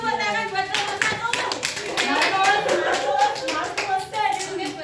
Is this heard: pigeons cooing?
no